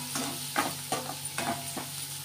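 Finely chopped onions fry in a pan over a high gas flame, a steady sizzle broken by several rhythmic scraping stirs at close range, with no talking.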